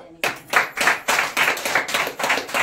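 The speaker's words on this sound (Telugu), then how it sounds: "ఒకసారి క్లాప్స్ కొడదామా?" A church congregation at a Sunday service claps together in a series of sharp, rhythmic bursts, about ten loud pulses following a brief quiet start, with no voices over it.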